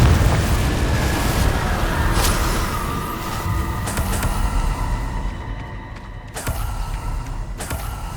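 Hogwarts Legacy's Confringo fire spell erupts in booming explosions, a sustained roaring blast with sharp bursts and crackling debris, loud and close with no talk.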